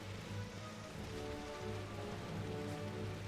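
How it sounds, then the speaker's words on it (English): Steady rain falls in Final Fantasy XII The Zodiac Age on PC, a soft continuous hiss of drops across the whole stretch, with low tonal game music humming underneath and no speech. "Oh no, it's even raining."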